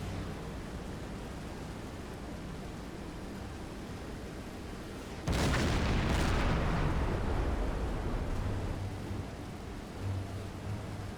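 A submarine's deck gun in Silent Hunter 5 fires at a torpedo-damaged freighter, with one loud booming blast and its rolling rumble breaking through steady wind and sea noise, followed by a fainter thud.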